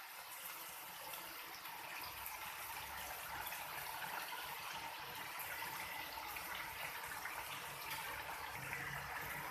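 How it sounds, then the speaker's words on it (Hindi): Water poured into a pan of keema karahi, a steady, faint gushing and splashing hiss that continues unbroken throughout. "तो इतना हम इसके अंदर पानी ऐड करेंगे कि जिसमें ये गल जाए।"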